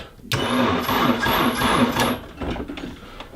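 The starter motor of a Nissan 240SX cranks the engine in one continuous burst of about two seconds, a close, loud, rhythmic whirring that fades out without the engine firing.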